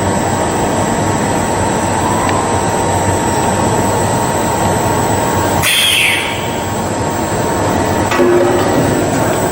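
A three-layer bottle blow moulding machine runs on HDPE with a loud, constant industrial drone. A sharp pneumatic hiss bursts out briefly partway through, and faint mechanical clicks sit under the hum.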